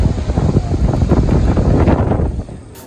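Strong wind buffets outdoors during heavy rain in Colombo city, a loud close roar of gusts and rain noise that fades toward the end.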